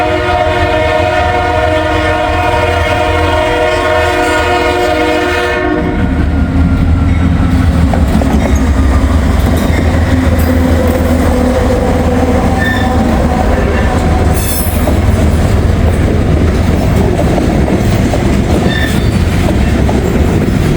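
A mixed manifest freight train rolls past trackside, its horn blaring in sustained blasts at the start, then a loud continuous rumble and clatter of wagons carries on steadily to the end.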